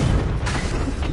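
A fiery blasting spell in a wizarding-school action game erupts in a continuous loud, low roar of explosion, dense and sustained across the whole moment.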